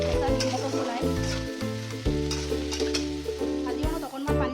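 Potatoes, tomatoes, soybean and cabbage fry and get stirred in a pan with a continuous soft sizzle over a steady tonal background. No talking.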